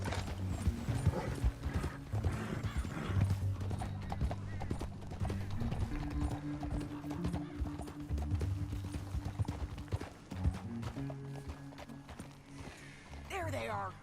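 Horse hooves clip-clop steadily in the Red Dead Redemption 2 video game, with a neigh near the end, under game dialogue and a player talking.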